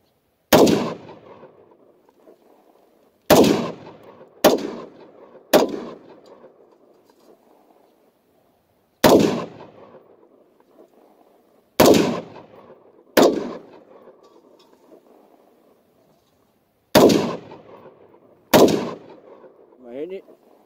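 AR rifle fired outdoors, ten loud, close gunshots at irregular intervals, each sharp crack followed by a short rolling echo, with a brief voice near the end.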